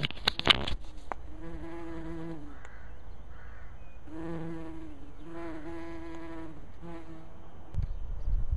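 Close, wavering buzz of bees flying near, rising and fading in bursts with short pauses between, heard alone outdoors.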